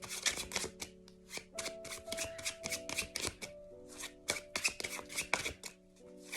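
A deck of tarot cards is shuffled and drawn by hand, with quick riffles and soft repeated snaps and flicks close by in uneven bursts, a faint tonal hum running underneath.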